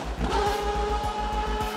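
A Mazda 787B Group C race car's rotary engine drones with a fast, pulsing rasp and rapid rhythmic bursts, sustained and fairly loud, heard at a moderate distance.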